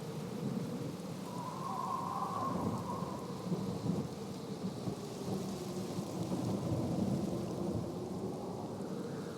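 Steady rain and rolling thunder outside a gloomy sanatorium graveyard in the video game Black Mirror, a constant wash of rainfall with low rumbles throughout, no voices.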